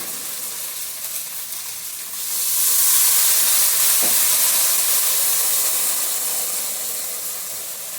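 Cumin, coriander and fennel powders with ginger, green chilli, sugar and turmeric sauté in a pan, the steady frying hiss swelling louder partway through and staying strong and close.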